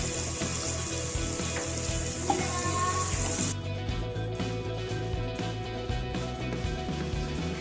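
Chopped onions sizzle and fry in mustard oil in a kadai, a steady close crackle with occasional stirring scrapes throughout.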